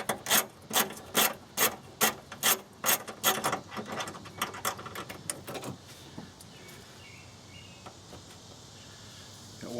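A hand ratchet loosens the 10mm hold-down bolts on a Toyota Prius Gen II hybrid battery. About a dozen sharp, close, rhythmic clicking bursts come in quick succession, then give way to a quieter mechanical rattle.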